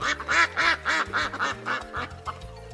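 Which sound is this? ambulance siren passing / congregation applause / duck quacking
duck quacking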